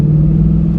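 A stock car with catalytic converters and an SLP exhaust gives a steady, deep exhaust rumble, close and loud, holding an even idle throughout.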